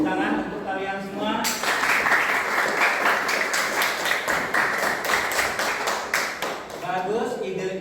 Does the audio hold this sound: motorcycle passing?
no